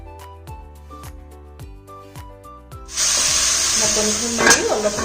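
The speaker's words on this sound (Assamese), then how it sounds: "এতিয়া এই কলডিলখিনি অলপ ভাজিব লাগিব।" Banana flower and potatoes hit a hot pan partway through, starting a bright, steady sizzle that follows a stretch of rhythmic music.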